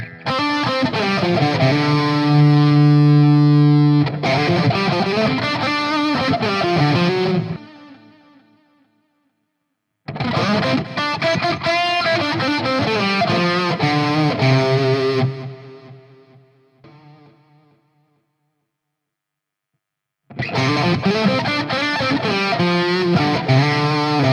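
Distorted electric guitar plays sustained chords in three bursts, notes swelling in and ringing out with a shimmering effect, separated by short silences.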